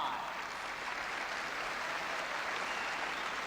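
Steady, dense roar of applause and cheering from a badminton crowd as Rudy Hartono wins his first point of the second game, continuous and fairly loud with no talk.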